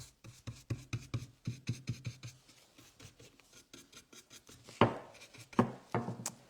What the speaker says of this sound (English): you can use your swirling motion or just sort of brush it inwards, kind of coming in from the edges of the painter's tape